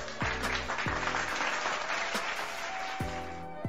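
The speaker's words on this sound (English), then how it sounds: "Can I get applause?" A crowd applauds during a talk on investing and saving money, steady clapping, with low tonal thumps cutting in now and then.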